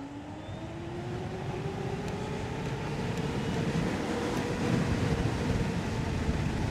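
Electric bike pulling away from a stop at full throttle, a rising motor whine climbing steadily in pitch over continuous loud wind and road rumble.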